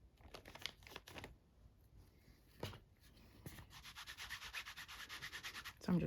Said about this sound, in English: So I'm just rubbing ink on it